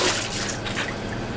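Water drips and runs while polycarbonate tubes are rinsed in a lab during trace-metal cleaning, a brief close splashy trickle with a steady wet hiss.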